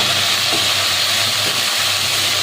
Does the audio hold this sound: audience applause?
no